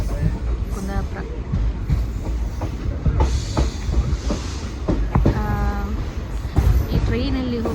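A train slows as it pulls into Kundapura railway station, its carriages rumbling with clacking wheels, several short metallic squeals and tonal whines rising over the steady roar, while voices speak close by.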